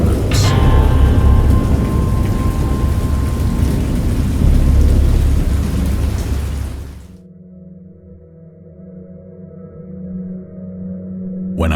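Heavy rain pours loudly with rumbling thunder for about seven seconds in the horror game Dagon, then drops away to a quieter, low droning ambience.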